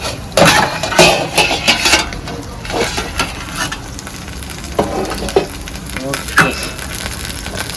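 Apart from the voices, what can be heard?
uthappam cooking on a low flame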